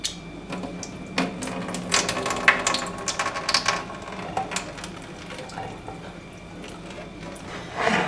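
Liquid drained from an opened can of corn runs and splashes into a sink, a steady close-up trickle with scattered small clatters and drips over about eight seconds, no voices.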